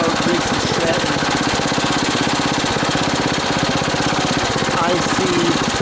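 A 10 horsepower Briggs & Stratton engine on a Bolens Husky 1050 garden tractor runs steadily nearby, with a loud, even, rapid chugging rhythm that holds throughout.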